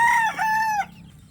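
A young banded rooster, freshly bathed, crows once loudly and close, the call sweeping up and holding before breaking off abruptly, with faint clucking from nearby chickens afterward.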